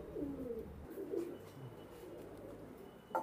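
Domestic pigeons cooing, a teddy-type pair kept in a loft, with several soft, throaty rolling coos that overlap at close range. A brief sharper sound comes at the very end.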